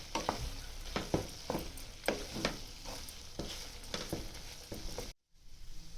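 Uncovered chicken liver fry with garam masala and mint in a pan, rhythmic spatula scrapes repeating about every half second over a constant close sizzle, briefly cut near the end.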